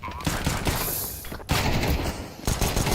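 MP9 gunfire in a professional European Pro League shooter match: loud, rapid automatic bursts in quick succession with brief gaps between volleys.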